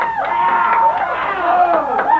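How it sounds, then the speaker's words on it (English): A studio audience on a 1985 television show cheers and whoops at a steady loud level, many voices rising and falling together in a continuous noisy swell throughout. "we have such a large crowd tonight"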